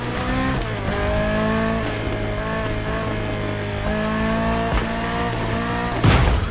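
Hypercar racing in The Crew Motorfest, with a loud, continuous high-revving engine whine rising and falling through gear shifts, several quick upshift sweeps, and a brief tire squeal near the end, all close and steady.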